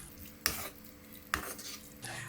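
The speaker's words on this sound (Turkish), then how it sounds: "Hepsini beraber karıştırıyorum." Tomato and zucchini stirred together in a pan on the stove, a spoon scraping and knocking against the metal twice in a couple of seconds over a faint sizzle, close by with no voices.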